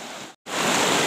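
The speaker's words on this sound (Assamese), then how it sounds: "তলত নদী" A river flowing beneath a bridge gives a broad, steady rush of water, close and loud, broken by a brief gap of silence before the flow resumes.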